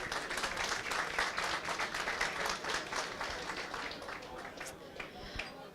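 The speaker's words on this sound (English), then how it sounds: "please give a big round of applause" Crowd applause at an evening reception aboard a cruise, steady dense clapping for nearly six seconds that slowly thins toward the end, with some voices mixed in.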